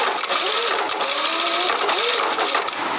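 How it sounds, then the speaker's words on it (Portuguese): Close and steady, a sewing machine stitches along a folded fabric edge, its rapid needle chatter running unbroken for about three seconds. "Dobra o tecido e costura bem na beiradinha"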